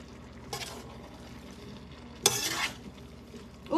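Food being stirred in a pan during home cooking, two short bursts of scraping and rattling from a utensil, close and fairly quiet, over a faint background sizzle.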